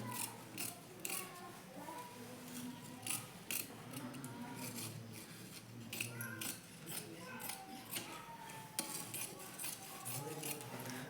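Scissors cut through blouse fabric in a series of quiet, crisp snips and clicks at an uneven rhythm, close up and with no voice.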